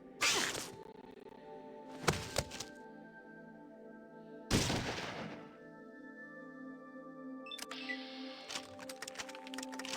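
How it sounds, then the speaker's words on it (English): Gunfire in the game Fallout 2: three or four separate sharp shot bursts with decaying tails, spaced a couple of seconds apart over a steady hum, with a clattering run of clicks toward the end. "Can I shoot this guy now?"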